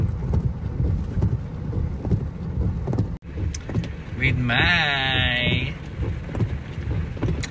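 Steady rain pours down outside a volleyball venue during a one-day league, a broad constant hiss under close voices talking throughout.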